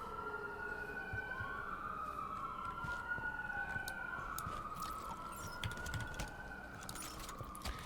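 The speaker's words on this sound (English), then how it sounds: "Sorry for the sirens you may hear in the background." Emergency vehicle sirens wail outside an open window, rising and falling continuously and fairly faint in the background behind steady indoor room noise, with light keyboard-like clicks scattered throughout.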